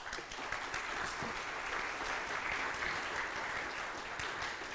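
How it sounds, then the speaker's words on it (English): Round of applause from an audience at a talk on security and deception as a volunteer walks up, steady many-handed clapping heard at a moderate distance, even throughout. "give him a round of applause as he makes his way down here"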